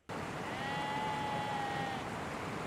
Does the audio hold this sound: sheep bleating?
yes